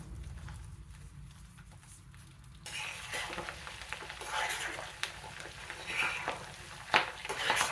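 Curry leaves and asafoetida crackling in hot tempering oil for mango pickle, a faint hum giving way to a bright, busy sizzle with a few pops toward the end.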